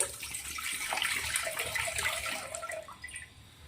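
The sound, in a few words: water being poured for chia seed sharbat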